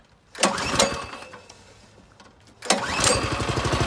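A small gasoline engine on a drift trike is pull-cranked, sputtering briefly, then catching on a second pull and settling into a loud, close, rapid putter.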